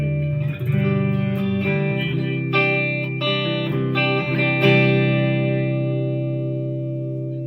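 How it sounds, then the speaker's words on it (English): A 1983 Gibson Invader electric guitar plays a clean tone, with several sustained notes and chords ringing out in turn and decaying smoothly into a long final fade. "now as for tone-wise, you have a really nice clean tone."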